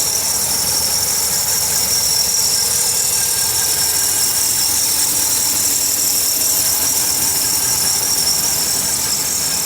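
A 2010 Ram 1500 ST 4WD pickup with the 5.7 liter Hemi V8 runs steadily under the open hood, a close, loud, continuous engine drone with a thin high whine on top and no talking.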